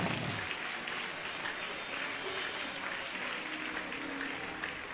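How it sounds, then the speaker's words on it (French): Congregation applauding during a church service, a steady wash of clapping that fills the room from start to finish at moderate volume, with no voices breaking through. "Applaudissez pour ça."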